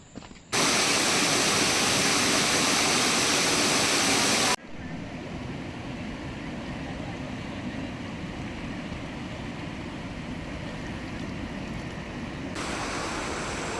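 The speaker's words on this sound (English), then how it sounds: "now we are heading towards a bigger waterfall" A large waterfall on the Karoli Valley trek roars as a dense, continuous rush of falling water, loud and steady throughout, with no voices.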